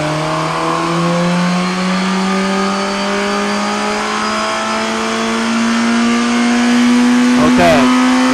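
A 2017 Suzuki GSX-R1000 motorcycle engine revs hard through its exhaust, a loud sustained roar climbing steadily in pitch and staying close and constant throughout.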